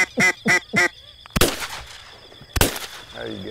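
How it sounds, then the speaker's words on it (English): Waterbirds call at a lily pad wetland in Australia: three loud, evenly spaced honking calls up close, then two sharp bursts with fainter calls and background noise between them. "there's no shortage of birds here this morning"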